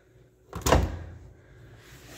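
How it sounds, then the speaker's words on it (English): The door of a Kenmore washing machine opens with a single close latch click and thump, followed by a short fading rattle in a quiet room. "Now we're going to open up the door."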